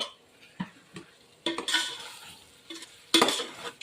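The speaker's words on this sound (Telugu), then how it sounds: "ఇప్పుడు టమాటాలు వేస్తున్నాను" Chopped tomatoes tipped into a pan of well-cooked onions for a country chicken curry, with scattered clinks and scrapes of a spoon on the pan and brief bursts of sizzling, all close and fairly quiet.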